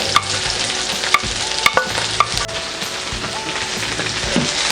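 Onions sautéing in a pan with garlic already golden brown, the base for goat kaldereta: a steady close sizzle with occasional sharp clinks of a utensil against the pan, and no talking.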